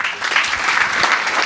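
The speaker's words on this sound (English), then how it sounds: "Round of applause, Sandra." Attendees at a property masterclass give a round of applause for a participant named Sandra, a brief, fairly loud and steady burst of clapping.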